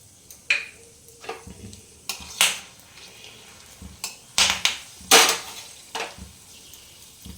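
Whole garam masala of cinnamon, cloves and cardamom dropped into hot oil, giving short bursts of sizzle and crackle with spoon-on-pan clinks spaced irregularly between quieter moments.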